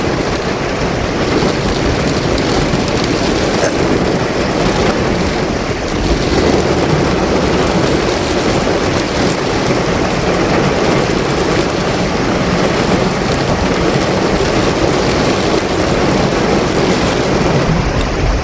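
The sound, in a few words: water pouring from mountain onto car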